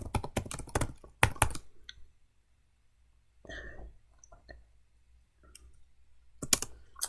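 Rapid bursts of computer keyboard typing while entering Rust code, close and crisp, starting and ending loudly with a quiet stretch of sparse keystrokes and faint shuffling in the middle.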